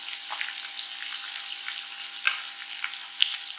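Chicken pakora deep-frying in oil over a high flame, a steady close sizzle and crackle throughout with small bubbling pops and no talking.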